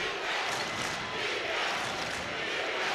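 Basketball arena crowd roaring and cheering at Bank OZK Arena during a tight state championship high school boys game, a dense, steady wall of loud crowd noise sustained throughout with no distinct voices standing out.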